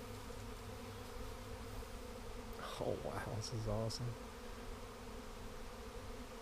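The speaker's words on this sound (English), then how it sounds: "there's a million bees over there" A huge honey bee swarm hums in a steady, continuous drone outdoors, with someone speaking excitedly over the buzzing.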